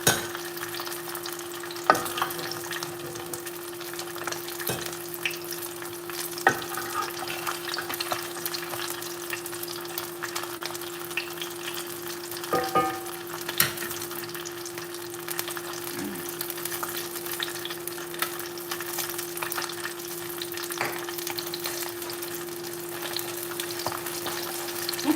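Garlic fries in oil with a steady, fairly quiet sizzle that runs throughout, while utensil clinks and scrapes mark the stirring at irregular moments.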